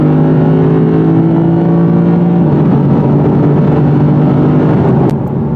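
Loud, near V-8 exhaust of a 2019 sports car at full throttle, a thick steady roar with the pitch climbing midway and a brief click near the end.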